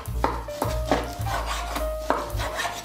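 A knife slices through peeled zucchini on a board in a series of crisp, evenly spaced cuts with a low rubbing hum between strokes, close and without talk.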